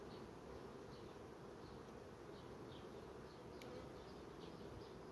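Honey bees buzzing at the entrance of a hive whose opening has been narrowed with propolis, a continuous low drone of many wings with brief louder passes close by, no talking.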